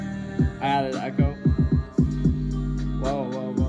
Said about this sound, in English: I added echo.